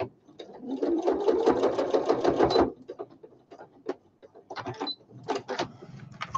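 Sewing machine stitching through fabric in a loud, steady burst of fast rhythmic needle strokes for about three seconds, then stopping, followed by faint handling clicks.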